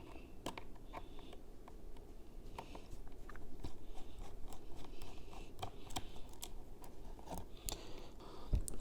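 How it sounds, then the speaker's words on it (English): A small screwdriver backs out the bottom case screws of a 2009–2012 MacBook Pro, giving scattered light clicks, ticks and faint metallic scrapes at close range over a soft steady background, with no talking. "So we're gonna open these screws."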